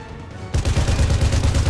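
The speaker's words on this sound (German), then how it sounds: "Wo kommen denn die Schüsse mal her?" Rapid gunfire in the video game Sniper Elite V2, a sudden burst of dense, machine-gun-like shots starting after a quiet moment and continuing loud and close.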